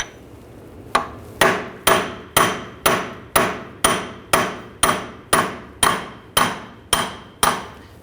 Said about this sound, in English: Now I'm going to use a punch on the outside